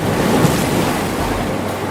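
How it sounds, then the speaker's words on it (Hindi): Floodwater flowing through a village, risen to knee depth, makes a loud, steady, rushing wash that fills the whole moment without pause. "देखो मम्मी, घुटने तक पानी भर गया गांव में और पानी बढ़ता ही जा रहा है।"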